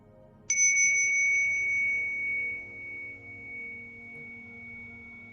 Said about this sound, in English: Try to find out exactly where this bell is pointing to.